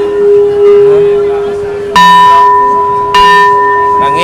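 A large Thai temple bell rings with two loud struck tones, each hit followed by a long sustained hum, over a steady drone with voices talking nearby.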